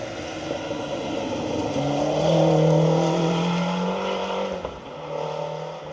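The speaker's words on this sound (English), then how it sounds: "Great to see Kevin Proctor, Jamie Edwards in that Ford Sapphire Cosworth 4x4" A Ford Sierra Sapphire Cosworth 4x4 rally car drives a forest stage of the Roger Albert Clark Rally, its engine note rising and falling steadily at middle distance for several seconds.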